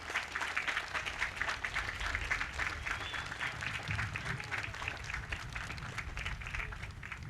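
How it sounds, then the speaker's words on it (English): A crowd at a Memorial Day ceremony gives a speaker a big round of applause, dense and sustained clapping that stays loud throughout with no speech over it. "let's give him another big round of applause"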